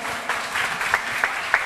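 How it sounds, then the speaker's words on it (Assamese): Applause from an audience for a small child who has just given a speech, steady group clapping with a few sharper individual claps standing out. "দি হাত চাপৰি বিচাৰিছোঁ আমি আপোনালোকৰ পৰা"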